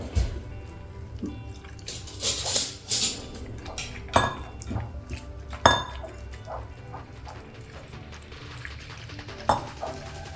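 Flour batter for cheese balls being mixed in a bowl, with repeated clinks and scrapes of a utensil against the dish, some louder knocks, and light wet sounds between them.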